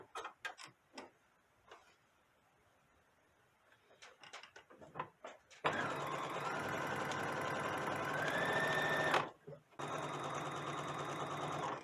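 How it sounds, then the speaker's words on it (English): A sewing machine runs steadily for several seconds as it stitches a 5/8 inch seam allowance on a garment, loud and close, after a stretch of quieter handling sounds and light talk. "we're going to sew a 5/8 seam allowance"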